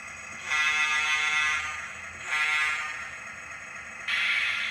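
A synthetic horn from a model locomotive DCC sound decoder blasts three times, loud and buzzy, each blast sustained for a second or more with short gaps between.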